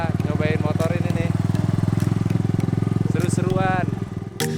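A Honda CB100 motorcycle engine runs steadily close by, a loud, even pulsing putter that holds throughout with only slight wavering near the end.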